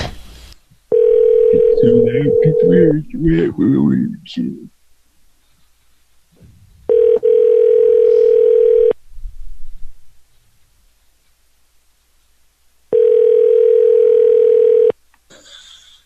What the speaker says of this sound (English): Maybe Patrick could do this call